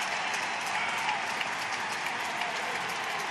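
Crowd at a college baseball game, Texas against LSU, applauds in a steady, dense wash of clapping and cheering that holds evenly throughout, fairly distant and without clear voices on top.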